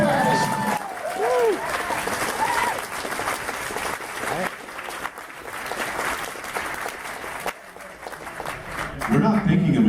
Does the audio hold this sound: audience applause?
yes